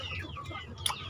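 Chickens in a free-range coop cluck softly and intermittently, with a brief sharper squawk near the end, faint and close.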